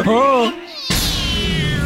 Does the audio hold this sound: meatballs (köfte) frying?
no